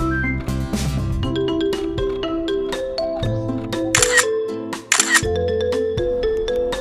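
A camera shutter fires repeatedly while shooting telephoto portraits outdoors at Seonyudo Park. Sharp clicks come in quick, irregular succession over background music, with a couple of louder bursts.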